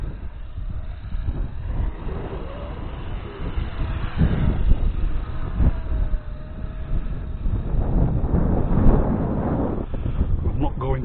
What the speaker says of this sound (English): Yeah, that's windy, dudes.